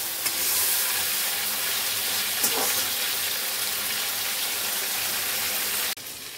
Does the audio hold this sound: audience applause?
no